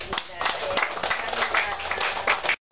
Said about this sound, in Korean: 감사의 박수 드립니다